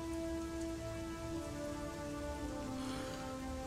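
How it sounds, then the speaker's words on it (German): Steady rain hisses across the scene in the video game Dark Parables, a constant wash of patter under sustained musical tones, with no talking. "Schon wieder Regen, ne?"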